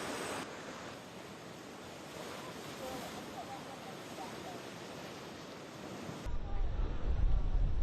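Rough Atlantic surf whipped up by storm Lee, a continuous broadband roar of breaking waves mixed with gusting wind buffeting the microphone, growing louder and heavier toward the end.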